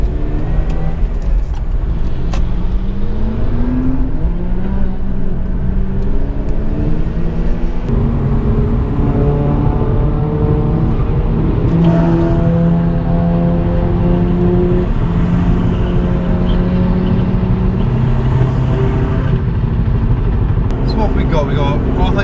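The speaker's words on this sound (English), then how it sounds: "The sun is rising and the JDM cars are out." A convoy of JDM cars at sunrise, among them an R34 GTR, PS13, S14, two S15s, two RX7s, an RX8 and a widebody 350Z, drives together. Loud, continuous engine roar rises and falls with shifting revs, with a voice talking over it.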